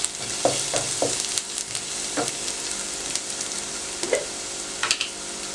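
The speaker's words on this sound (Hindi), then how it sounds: "लहसुन पेस्ट फ्राई करें चंद सेकंड के लिए।" Garlic paste fries in a pan, giving a steady close hiss with brief stirring scrapes spaced irregularly throughout.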